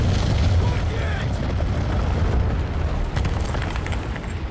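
Heavy rumbling blast in the Guardians of the Galaxy video game, a sustained low roar with scattered crackles that fills the whole stretch while characters shout over it.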